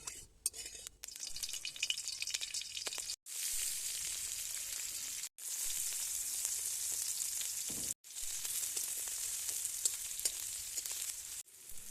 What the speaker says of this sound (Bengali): কড়াইয়ের মধ্যে সামান্য তেল দিয়ে লঙ্কা পেঁয়াজ রসুন দিয়ে দিলাম